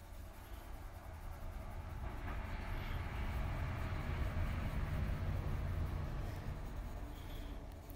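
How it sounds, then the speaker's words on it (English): A train rolling past with a steady low rumble and broad rattling noise that swells and holds for several seconds, moderately near, with no talk over it. "Did you just hear the train?"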